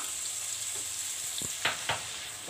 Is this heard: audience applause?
no